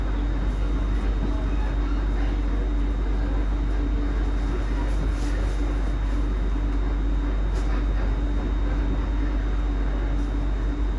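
A passenger train nearing Springburn station gives a loud, steady low rumble and rolling wheel noise from inside the carriage, continuous and even throughout with no voices.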